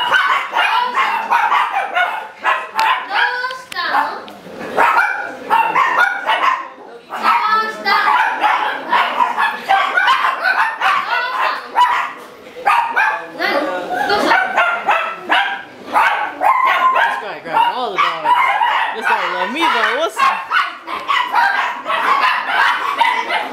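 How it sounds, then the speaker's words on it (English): Several dogs bark and yip steadily at a dog park cafe in Japan, close and loud, with overlapping sharp barks and some whimpers continuing throughout. "So we just made the dog park cafe. And we got some dogs."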